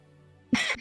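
A single sharp sneeze bursts out suddenly after a quiet moment with faint background hum, loud and close, lasting under half a second.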